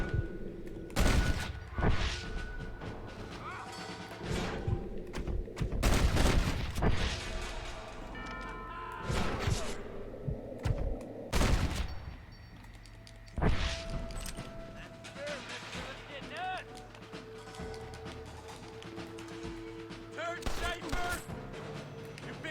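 Gunfire in the Western video game Red Dead Redemption, with repeated loud shots and sharp bursts spread across the scene among game effects and music, while a player talks over much of it.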